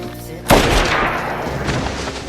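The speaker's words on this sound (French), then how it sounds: "L'autre entend les coups de feu et détale dans les bois." A single sharp gunshot cracks out, followed by a long rumbling echo that slowly fades away.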